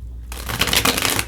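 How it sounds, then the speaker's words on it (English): A deck of tarot cards is shuffled by hand in one quick, continuous burst of riffling and sliding card noise, close and clear with no voices. "Let's shuffle again"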